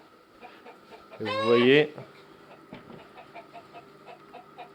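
A Gournay hen lets out one loud, close, rising squawking cluck, with soft clucking and a French-speaking voice around it in a backyard flock.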